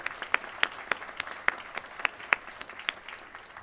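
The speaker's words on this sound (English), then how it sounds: "So let's give everybody a round of applause again" Applause from a school district board meeting audience, a short, sparse round of distinct claps from a small group, moderately distant in a room.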